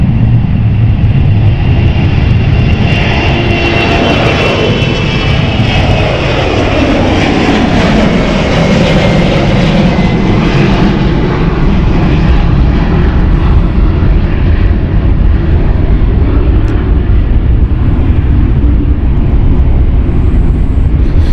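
Embraer jet at London City Airport, engines spooling up: a loud, continuous roar with rising and falling whine tones, steady and close for the whole stretch, with no talk.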